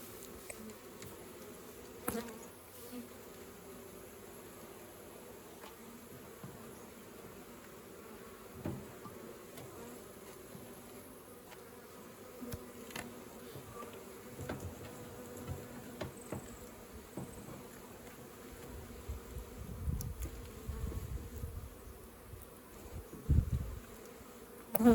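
Honey bees buzz steadily around opened hives during an inspection, a constant low drone at moderate level with occasional louder passes near the microphone and some handling knocks toward the end.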